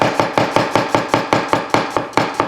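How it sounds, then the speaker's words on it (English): Sharp chef's knife chopping a vegetable finely on a cutting board, about eleven quick, even knocks in steady rhythm, close and clear with no talk. "I'm going to cut it on a bit of a bias"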